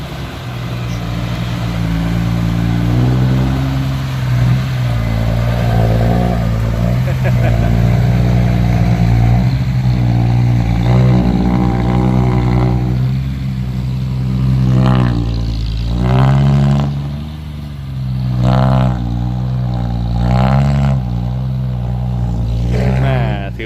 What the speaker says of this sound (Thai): ระเบิดจากท่อไอเสียเขาบอกว่าต้องลั่นนะ